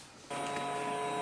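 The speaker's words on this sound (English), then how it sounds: "Place a file on the scanner and click on the scan icon." A Canon Pixma G620 printer starts scanning a document on its flatbed, a steady mechanical hum with tonal whine switching on abruptly and continuing at moderate level.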